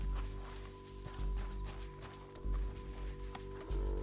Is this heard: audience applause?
no